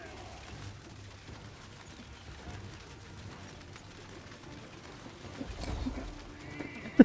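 A horse whinnies amid battle noise in Total War: Three Kingdoms, with hoofbeats and distant gunfire-like clatter under a steady din, rising toward a sharp crash near the end.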